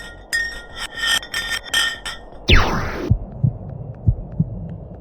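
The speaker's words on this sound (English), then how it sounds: "they decided to drop some ice to the bottom of the hole to see what would happen next" A block of ice dropped down a deep borehole in Antarctic ice, heard as a series of ringing, laser-like pulses followed by a sharp descending whistle and then hollow thuds and knocks echoing from below.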